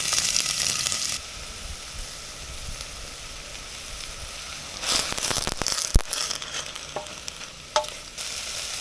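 Onions and garlic sauté in olive oil over medium-high heat, a steady sizzle that swells as they hit the pan, then stirring scrapes and clanks with bursts of crackling frying.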